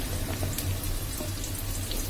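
Onions hit a hot pan with ginger and garlic for chilli chicken, giving a loud, continuous sizzle and crackle throughout with no speech.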